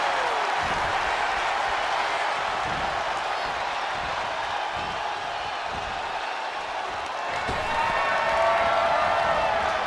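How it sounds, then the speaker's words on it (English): A capacity arena crowd in a wrestling video game, a continuous wash of cheering and crowd noise at steady volume that swells slightly near the end. "With every move you make, you hear this capacity crowd following you on that journey."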